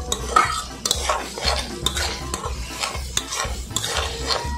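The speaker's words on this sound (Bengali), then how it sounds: "ধনিয়া পাতাটা দিয়ে আমি 1 মিনিট নাড়াচাড়া করে নামিয়ে ফেলবো।" Chickpeas and fresh coriander leaves are stirred in a pan, with a steady sizzle of frying under repeated scraping strokes of a spatula or spoon against the metal, close and fairly loud, with no talking.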